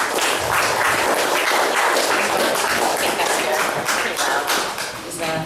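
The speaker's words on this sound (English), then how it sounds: "Big round of applause." Loud, sustained applause from an audience at a live poetry reading, dense clapping filling the room without a break and tapering slightly at the end.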